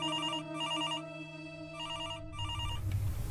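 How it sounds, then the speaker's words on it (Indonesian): A telephone bell rings in a repeating electronic trill, two clear bursts with short gaps, loud and close, before background noise rises as the ringing stops. "Telepon bunyi."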